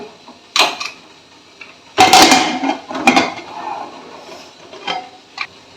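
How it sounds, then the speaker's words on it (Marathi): A few metallic clanks and scrapes as a pressure cooker lid is lifted and set down, spaced out over quiet moments. "आता इथे मी हे कुकरचं झाकण काढते"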